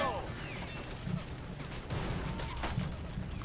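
Battlefield gunfire in Men of War: Assault Squad during the Battle of Bocage: steady crackle of mixed shots with a few louder bursts under a constant background din of combat.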